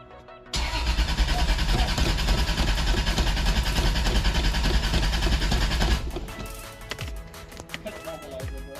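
A Toyota Supra with a swapped 2JZ engine cranks loudly and steadily for several seconds in a close, dense whir, then cuts off, leaving faint ticking and background noise.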